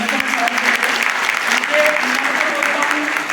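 Audience applause at a shopping award celebration ceremony in Amarwara: loud, dense clapping from a crowd, with voices talking and calling out underneath.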